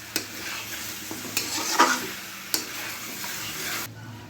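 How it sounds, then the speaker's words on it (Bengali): Methi chicken being stirred and sautéed in a pan: scattered scraping knocks of a spoon against the pan over a faint sizzle, close and fairly quiet, ending abruptly. "এবার শুধু এটাকে কষাতে হবে।"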